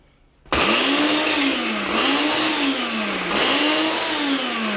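A Ninja blender chops red onion, peppers and scallion, its motor kicking in abruptly and whirring loud and close in three pulsing surges with pitch dips between them.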